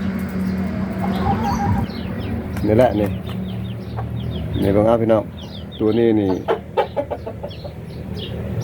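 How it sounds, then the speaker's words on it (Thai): Burmese crossbreed chickens bred from hardy hens cluck repeatedly and close by in a small pen, with someone talking over them throughout. "เป็นไก่"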